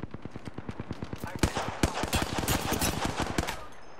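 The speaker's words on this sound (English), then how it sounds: "They're shooting at me!" Rapid automatic gunfire in Apex Legends, a steady burst of evenly spaced shots that grows denser and louder midway, with overlapping shots and game effects, close and dominant.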